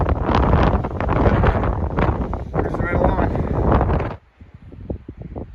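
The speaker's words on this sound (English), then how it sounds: "A little windy here, as you can tell." Heavy mountain wind buffets the microphone in loud gusts for about four seconds while someone speaks, pre-dawn on Longs Peak in Colorado, then drops away to quieter breathing and footsteps.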